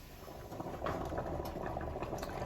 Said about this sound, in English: I ain't even have to go sit down and wait on the water to start boiling